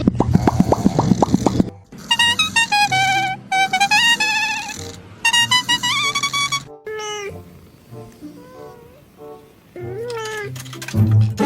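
A cat meows repeatedly in a run of loud, drawn-out, tuneful calls separated by short pauses, with a few shorter yowls near the end.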